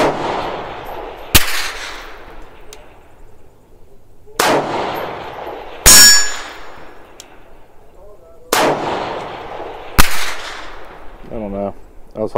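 A 6mm ARC rifle with an 18-inch barrel fires on a long-range course out to 1,000 yards at steel targets: five sharp, loud reports spaced a few seconds apart, each with a decaying echo, and faint sounds between the shots.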